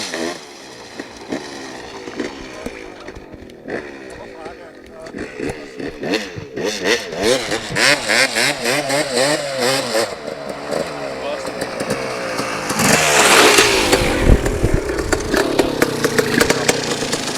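A 250cc motocross bike engine idles and revs with rattling, uneven bursts, building to louder revving toward the end, while people talk over it at close range.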